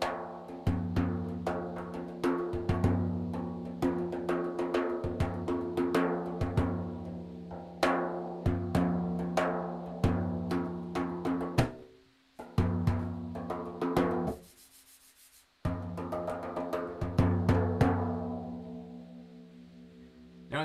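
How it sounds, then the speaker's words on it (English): A hand-played frame drum struck in a steady rhythm of resonant, ringing hits, close and loud with no talking, pausing briefly twice before the beat resumes. "And so a frame drum like this is going to sound something like this."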